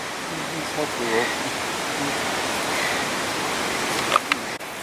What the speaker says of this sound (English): You can really hear the falls here.